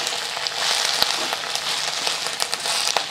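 Mint leaves sautéing with green chilies and garlic in a clay pot, a steady close sizzle with scattered crackles and pops throughout.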